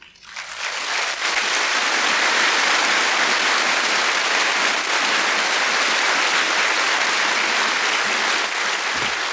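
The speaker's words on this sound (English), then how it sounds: "you may applaud them" A large audience applauds magna cum laude Bachelor of Arts graduates at a 1966 Augsburg College commencement, the clapping swelling within the first second into a loud, even, sustained roar that continues without a break.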